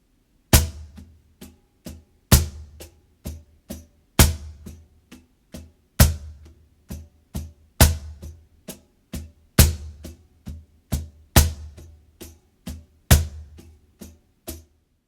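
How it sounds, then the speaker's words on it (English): Steady cajon paradiddle of soft ghost notes with sharp, louder snare-like accents on the four beats of each bar, played alone at a slow, even tempo. "accenting only the 4 beats of the bar in the snare of the Cajon"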